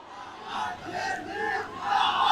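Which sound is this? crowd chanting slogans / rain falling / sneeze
crowd chanting slogans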